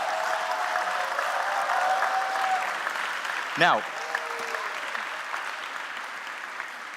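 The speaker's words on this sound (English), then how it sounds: "So please also give a round of applause for these people." Audience applause for the event production team at the Mindvalley University 2023 closing, a broad steady wash of clapping from a large crowd that continues throughout, with a brief voice cutting through midway.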